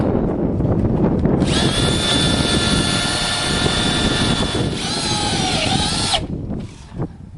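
Power drill driving screws into metal gate hinges: a loud whining run of about three seconds, a brief dip in pitch, then a second shorter run that slows as the screw seats, close up.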